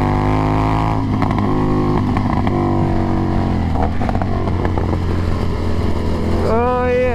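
A Honda CBR600RR-class sport motorcycle accelerates hard while being ridden, its engine note climbing loud and close through rising revs, with a brief shift near the end and a rider speaking over it.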